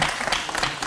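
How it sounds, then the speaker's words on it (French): A studio audience at a showbiz TV programme bursts into brief applause, a dense wash of clapping lasting under a second at moderate loudness. "on applaudit pour ça."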